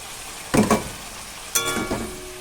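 Potatoes, pointed gourd and vegetable stalks sizzle in a spiced pan as they are stirred, with two loud bursts of frying around the half-second and one-and-a-half-second marks over a steady low hiss.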